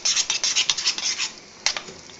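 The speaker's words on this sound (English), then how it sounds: "So you need to mix that all in" Tuna mornay ingredients being mixed and mashed in a bowl, giving a series of soft, rasping scrapes and rubs that repeat steadily, pause, then return with one sharper scrape near the end.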